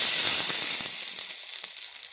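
Hot tempering poured over dosa chutney sets off a loud, bright sizzle right away. The hiss fades gradually over about two seconds, with a few light pops and crackles, and no one speaks.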